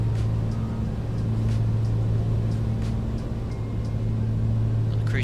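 Piper PA-24 Comanche engine at cruise power, 20 inches manifold pressure and 2200 RPM, leaned to about 14 gallons an hour, a steady, loud drone with a strong low hum that holds without a break.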